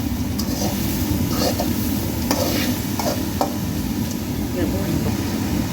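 Onion and turmeric stirred in a pan for snake gourd pachadi, a steady close broadband sizzle-like hiss with scattered spoon scrapes and clicks throughout.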